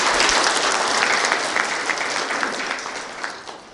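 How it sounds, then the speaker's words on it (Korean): Audience clapping at a memorial ceremony and foundation launch honoring independence activist Kim Dong-sam, a dense burst of applause that gradually thins and fades toward the end. "박수 보내주십시오."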